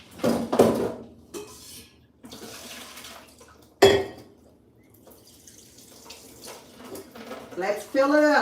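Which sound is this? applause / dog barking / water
water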